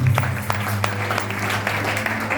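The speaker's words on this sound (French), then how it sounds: "Nous l'encourageons par les applaudissements." Church congregation applauding at a New Year's Eve service, a steady continuous wash of many hands clapping with a low hum underneath, fairly loud and sustained throughout.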